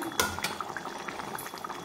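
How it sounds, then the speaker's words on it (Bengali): Egg, potato and cauliflower curry gravy boils in a pan with a soft, continuous bubbling and occasional small pops, heard close and quiet with no one talking. "আমার দেখো ঝোলটা ফুটে গেছে।"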